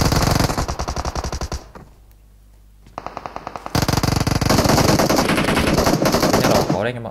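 Machine gun fire in a Vietnamese-language online shooter match: loud rapid bursts of automatic gunfire, a brief quieter gap, then a few shots and a long continuous heavy volley close by.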